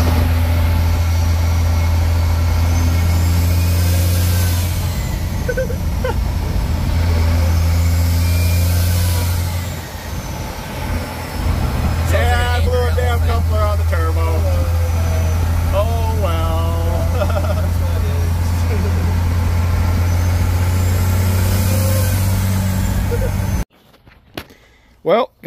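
An old Cummins-powered truck running steadily while towing, its deep engine drone loud and constant with rhythmic rises and falls, the hum cutting off abruptly near the end; a voice speaks over it.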